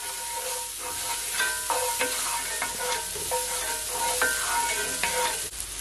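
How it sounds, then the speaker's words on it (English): Honey jerk salmon sautéing in a pan, a close, steady sizzle with scraping stirs and light clinks of a utensil against the pan, no voices. "I'm gonna saute it for at least 15 seconds"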